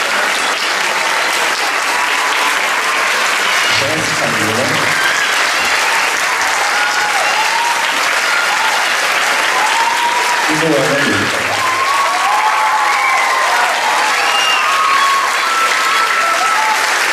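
Steady, dense applause from an audience greeting graduating ballerinas at a ballet graduation ceremony, loud and continuous throughout, with a few brief low thumps and faint voices mixed into the crowd.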